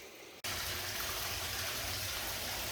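Engine coolant from a Nissan S13 starts draining suddenly after a brief quiet moment, then pours in a steady, loud, close splashing gush with no talking.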